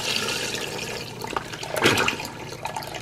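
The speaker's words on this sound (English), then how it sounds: "I add my chicken broth in with our stock that we made already, just to increase the volume there." Chicken broth pours steadily into homemade stock for a Louisiana gumbo, a continuous splashing, gurgling rush of liquid that swells midway and stays fairly loud throughout, with no talking.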